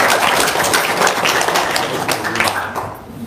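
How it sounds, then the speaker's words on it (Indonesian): An audience claps for Haji Marko, a dense patter of many hands that is moderately loud and steady, then thins and fades toward the end, with no voices over it. "Tepuk tangan dulu untuk Haji Marko."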